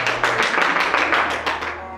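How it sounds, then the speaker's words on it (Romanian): Applause during a stage play: a dense, lively patter of many hands clapping close by, holding steady and then thinning out near the end. "Ele aplaudă."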